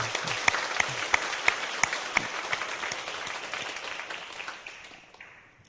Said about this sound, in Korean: 우리 함께 뜨겁게 좀 박수해 주시기 바랍니다